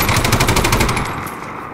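Rapid automatic gunfire in a multiplayer shooter video game, a loud close burst of evenly spaced shots that trails off into reverberation, no talking.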